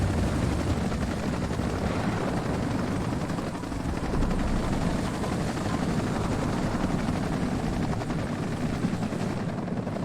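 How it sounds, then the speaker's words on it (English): Military helicopters flying in during a WARNO battle make a loud, continuous rotor drone that fills the whole stretch, steady and close, with no speech. "So I have more helicopter troops coming in."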